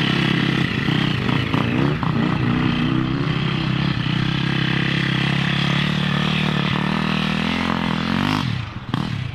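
MX2 class motocross motorcycles race around a track during a race day, their engines roaring loud and continuous, revving and droning close by throughout before briefly easing near the end, with no talk.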